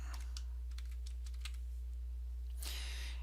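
Typing on a computer keyboard: a quiet series of separate key clicks in an irregular rhythm over a steady low hum, ending with a brief louder burst of keystrokes.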